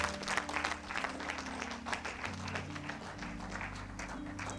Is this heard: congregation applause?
yes